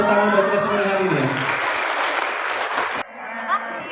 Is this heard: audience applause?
yes